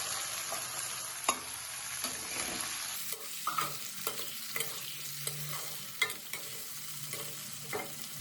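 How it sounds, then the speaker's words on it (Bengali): Boiled potatoes tossed into hot oil with cardamom and bay leaves and stirred, a steady sizzle of frying under repeated scraping and knocking of a spatula in the pan, close by. "আলু সিদ্ধ করে রেখেছিলাম, এই আলুগুলো আমি এখন দিয়ে দিচ্ছি"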